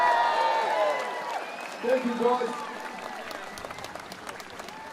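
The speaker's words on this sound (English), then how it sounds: "Can we have another round of applause for our nurses and doctors down there?" Crowd applause at an outdoor Dunedin protest against hospital cuts, honoring nurses and doctors; scattered clapping continues under someone speaking briefly into a microphone, swelling slightly then thinning out.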